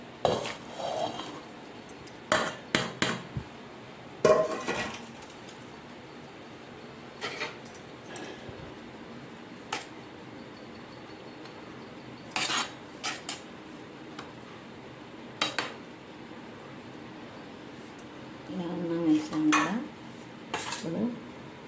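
Cooked rice spooned from a pot onto marinated chicken legs for chicken leg dum biryani, heard as scattered metal spoon clinks and scrapes against the pot with quiet pauses between.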